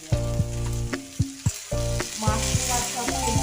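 Mushrooms frying in a pan while being stirred for poha, with a steady close sizzle, repeated sharp scraping knocks, and sustained musical tones underneath.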